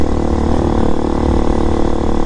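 RPS Hawk DLX 250 motorcycle with a CG-style engine, riding at steady speed on a road to a cemetery, its loud continuous engine drone filling the whole stretch.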